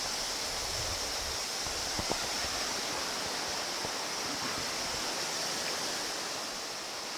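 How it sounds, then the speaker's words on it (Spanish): Water gushes from a spring inside a cave crater, a steady, loud, broadband roar that fills the space without pause, with no talking. "Esta es la cueva, el cráter donde brota el agua."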